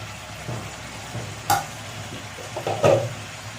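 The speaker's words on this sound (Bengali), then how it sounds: "বসিয়ে দিয়েছি মাংসটা ভাজা ভাজা হবে" Meat frying in a pan with a soft continuous sizzle, broken by a few brief stirring scrapes and clanks.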